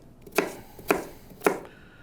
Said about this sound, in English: So I'm just going to cut them in pieces where the flavor come out